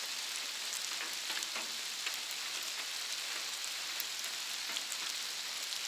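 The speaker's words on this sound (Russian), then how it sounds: "Дождик-то усилился." Steady rain falls in the taiga of the Komi region near Ukhta, a dense, even hiss of drops with scattered close patters, holding constant and fairly loud throughout with no voices.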